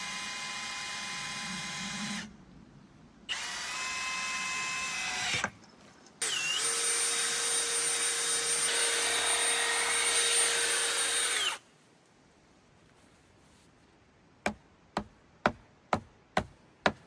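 A drill runs in loud, sustained bursts while material is worked out during a DIY well repair at a log cabin build. Several starts and stops change pitch, followed by a few sharp, isolated knocks.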